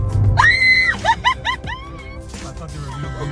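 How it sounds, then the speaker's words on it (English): A person screams loudly and shrilly, with rising and falling cries and short yelps, during a haunted lantern tour inside the Cave of the Winds in Colorado; people talk and laugh around it. "I love that scream, and I caught that on video."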